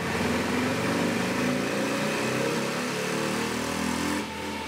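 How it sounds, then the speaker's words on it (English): A Harley-Davidson motorcycle held at top speed on a dyno, a loud steady engine drone with a thick low rumble that holds level before dropping off just before the end. "we get a good sense of just exactly what the bike sounds like at top speed"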